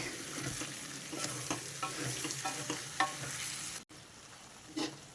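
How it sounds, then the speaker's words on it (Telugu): Chicken and brinjal curry is stirred in a pan with a spoon, quiet scraping strokes recurring over a soft sizzle, a brief gap, then one more scrape. "ఇదంతా ఒకసారి బాగా కలిపేసుకోవాలి"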